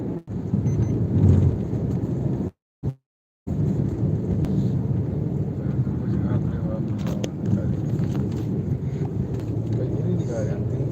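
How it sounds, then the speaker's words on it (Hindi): Steady rain falling outdoors with low rumbling thunder, a continuous wash of noise briefly cut out once midway. "आज देखिए बारिश हो रहा है।"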